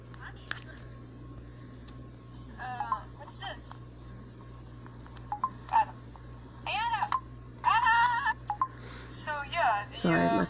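A mobile phone sounds several short bursts of electronic tones, separate beeps and chirping tone sequences clustered toward the end. They play over a steady background hum, and a voice cuts in at the very end.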